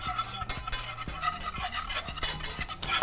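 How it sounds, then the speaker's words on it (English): Whisk stirring three tablespoons of flour into a broccoli soup base in a pot, giving steady scraping and clinking strokes with repeated rhythmic taps close up. "let's give it a little whisk"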